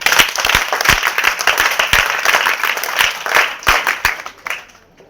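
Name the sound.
audience clapping hands at a ceremony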